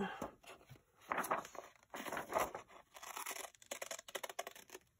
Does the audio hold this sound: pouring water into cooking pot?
no